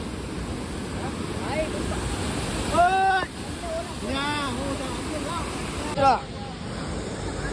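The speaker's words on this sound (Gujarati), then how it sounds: "ખાલી પાણીનો અવાજ સાંભળો ખાલી એકવાર" Water from an overflowing lake rushes steadily under gusts of wind, while someone whistles a few rising and falling notes.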